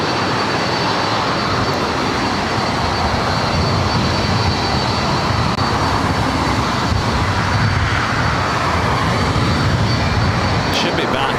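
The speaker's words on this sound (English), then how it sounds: "This is Southwest Airlines 2337 coming in from Phoenix on a" A Southwest Airlines Boeing 737-700 arriving from Phoenix and landing at LAX, heard as a steady, loud broadband jet roar that holds at an even level from start to finish, with no voices in the clip.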